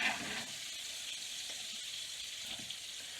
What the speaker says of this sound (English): Let me stir up the onions.